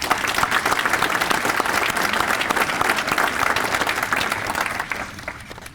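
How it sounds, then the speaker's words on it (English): Audience at a village state-of-the-village presentation breaking into applause, dense steady clapping from a sizeable crowd that fades out near the end. "I think a round of applause to Arlene."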